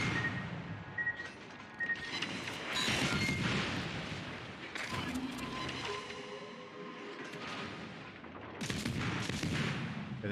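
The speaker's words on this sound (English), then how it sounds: "I shoot AP to this guy because he's a light cruiser." A warship in World of Warships fires armor-piercing shells: heavy booming salvos and crackling gunfire burst repeatedly in loud, uneven volleys, with dips between the barrages.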